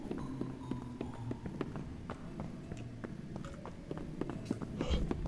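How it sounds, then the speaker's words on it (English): Faint footsteps sounding in the Indigo Park mascot horror video game, a steady series of soft taps and thuds over low ambient background with no talking. "Bro, I heard them footsteps."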